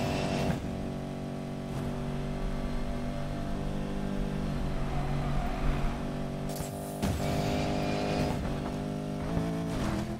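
Race cars roaring in Need for Speed Payback, a steady loud engine drone with several revving surges and brief bursts of noise partway through, sustained for the whole stretch.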